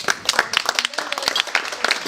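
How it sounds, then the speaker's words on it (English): Audience at a leadership award ceremony breaking into a round of applause, brisk scattered clapping of a modest crowd, fairly close and steady. "So please join me in giving Flori a round of applause"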